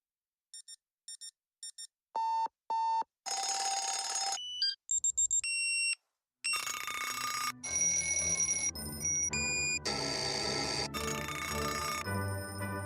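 An alarm clock in a radio ad rings loudly in clipped bursts of electronic beeps, then gives way to a sustained, clanging bell ring that runs on steadily with no talk.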